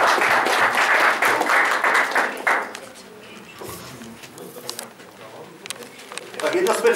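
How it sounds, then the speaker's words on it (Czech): A crowd at a chess tournament prize-giving claps in a brief burst of applause, then a quieter stretch with scattered sounds and a little clapping returning at the end. "A nyní nasloužení potlesk."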